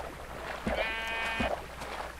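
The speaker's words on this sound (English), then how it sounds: "there's more sheep over here" Sheep in the early Minecraft version 1.5 bleat twice in quick succession, short nasal video-game calls heard clearly over a quiet background.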